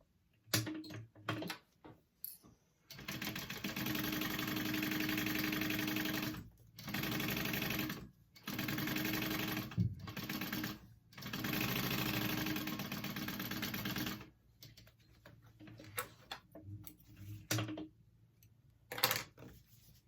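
Sewing machine top stitching a zipper pocket on a shoulder bag, running in several sustained bursts of rapid mechanical whirring separated by short pauses and faint handling clicks.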